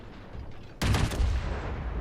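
A naval gun salvo fires from a Fiji-class cruiser in World of Warships: one sudden, loud blast that rolls into a sustained, rumbling roar, with a low hum before it.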